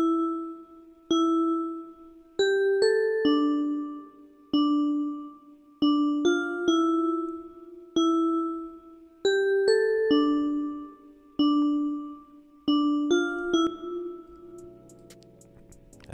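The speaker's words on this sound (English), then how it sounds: "for this fourth sound, I use another bell" A synthesized bell melody from a plugg type beat rings out in a repeating pattern of bright, chiming notes, each struck cleanly and decaying, looping several times before fading.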